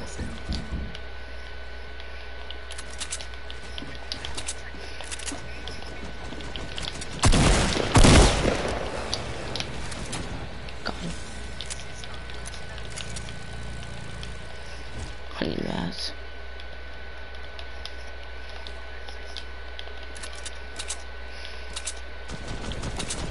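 Gunfire in an online shooter video game: a loud burst of rapid shots in the middle, a shorter burst later, over low game ambience with a player talking at times.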